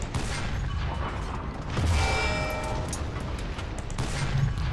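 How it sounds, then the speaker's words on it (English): Tank cannon fire and battle din in War Thunder while a Panzer III M shoots APCR rounds, with booming shots and mechanical clatter under a continuous loud rumble, no speech. "Still firing APCR."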